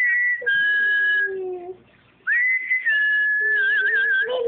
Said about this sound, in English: do you whistle?